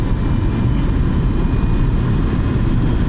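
A Hyundai Kona Electric Premium 64 kWh climbs uphill at full throttle, heard from the cabin as a steady, loud low roar of road and wind noise that holds unbroken throughout.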